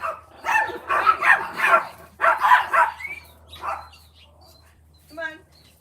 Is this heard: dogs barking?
yes